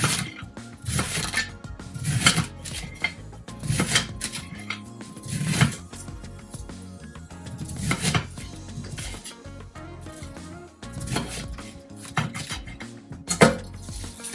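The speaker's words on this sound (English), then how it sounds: "You can just start slicing." A knife slices through a cabbage for fried cabbage with smoked turkey and ham. It lands in a steady rhythm of sharp, crunchy cuts against a board, about one every second or two, close and fairly quiet.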